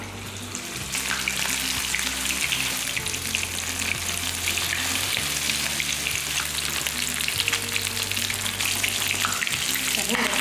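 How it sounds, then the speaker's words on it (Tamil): Marinated fish pieces frying in hot oil give a loud, steady crackling sizzle that runs unbroken the whole time, with a faint low hum underneath. "இப்போ மீன் எல்லாமே நல்லா பிரட்டி வச்சாச்சு இப்போ ஒவ்வொன்றா எடுத்து பொறிச்சிடலாம்"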